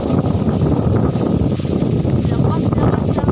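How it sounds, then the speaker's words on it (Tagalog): Strong wind gusting across an open farm field with coconut trees, a loud continuous rushing roar buffeting the microphone, with people talking over it. "Lakas ng hangin, oh."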